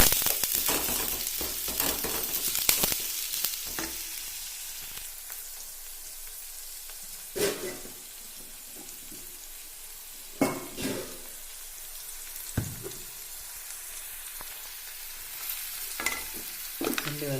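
Onions fry gently on a low flame, a soft continuous sizzle with occasional utensil scrapes and clinks as they are stirred.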